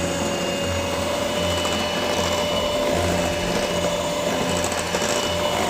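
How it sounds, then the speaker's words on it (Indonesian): An electric mixer on low speed beats eggs, sugar and coconut milk into bolu kemojo cake batter, giving a steady, close motor whir with a constant tone that runs without a break. "selanjutnya kita masukkan santan sedikit demi sedikit sambil kita kocok perlahan. Jadi cukup menggunakan speed rendah aja"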